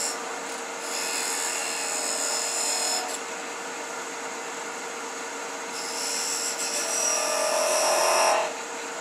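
A wood lathe scraper with a flat cutter scrapes at spinning wood, rasping in several bursts over the steady whir of the turning lathe, close and fairly loud.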